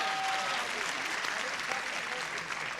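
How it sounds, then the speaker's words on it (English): Steady applause from a television game show studio audience, dense and continuous clapping throughout at an even, fairly loud level. "It is applause."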